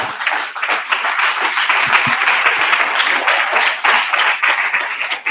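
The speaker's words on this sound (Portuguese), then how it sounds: "Dá uma salva de palmas para Jesus aí." A church congregation at a sermon claps loudly, dense, sustained applause filling the space from start to finish.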